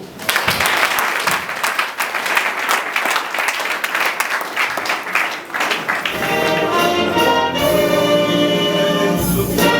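A crowd at a World AIDS Day event applauds loudly with dense, sustained clapping for about six seconds, then music takes over as the clapping fades beneath it.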